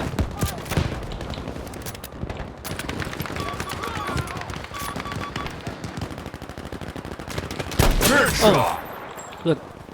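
Rapid bursts of automatic gunfire and single shots ring out during a Battlefield V match, dense and close, with a louder boom near the end and someone talking over the action.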